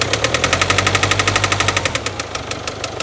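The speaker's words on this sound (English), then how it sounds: "Rev it a little bit." Close, loud engine idling and lightly revved, giving a steady rapid knocking pulse that eases off slightly toward the end, with no talking.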